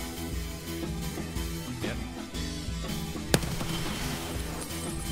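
A single sharp gunshot cracks out in a video game firefight, one loud isolated report over a continuous droning musical background.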